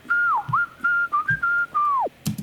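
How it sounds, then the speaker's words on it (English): A whistled melody, a studio hook with clear sliding notes in short phrases, close and alone, ending with a few soft knocks. "I whistled the melody"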